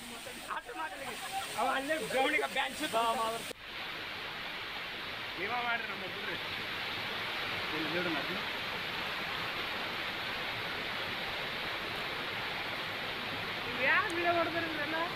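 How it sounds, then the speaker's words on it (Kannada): A constant roaring rush of rain-fed water falling down a hillside fills the scene near Tarikere, Chikkamagalur, Karnataka, with voices speaking over it at the start and briefly later. "ಬೆಟ್ಟದ ಮೇಲಿಂದ ನೀರು ಧುಮಿಕ್ತಾ ಇದ್ದು"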